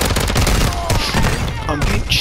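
Close, rapid bursts of gunfire in Warzone 2.0 hit the player's position, dense and loud for a couple of seconds with overlapping cracks and booms.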